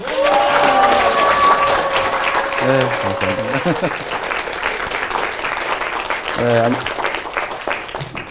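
An audience applauds in a lecture hall at Harvard Law School as the Seongnam mayor is welcomed, loud sustained clapping with scattered voices and a short spoken thanks over it.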